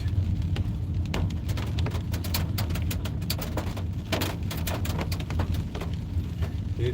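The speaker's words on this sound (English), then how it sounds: "It must be rain." Steady rain patters and crackles nearby in a dense, even wash of drops, with occasional sharper taps standing out and no voices.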